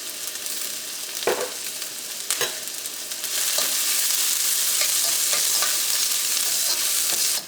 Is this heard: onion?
yes